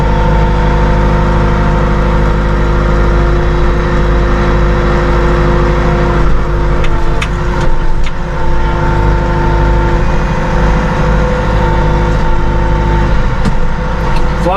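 Massey Ferguson 2M.60 compact utility tractor with a cab and deluxe loader, its engine raised to about 1500 RPM: a steady, loud, close diesel drone with a constant hum and no talking.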